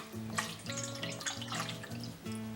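Water poured into a bowl for arepa dough made with pre-cooked corn flour, a steady close splashing and trickling stream that runs continuously for a couple of seconds.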